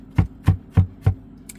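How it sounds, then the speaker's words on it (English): Vegetables roughly chopped with a knife on a board for lentil dal: four evenly spaced, firm thuds close by, followed by a faint light click, with no voices. "I'm just going to roughly chop these"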